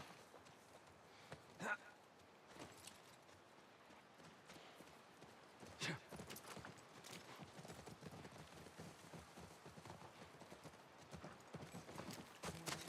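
Horse hooves clip-clop steadily in The Last of Us video game, with a brief whinny among the continuous footfalls and game ambience in the background.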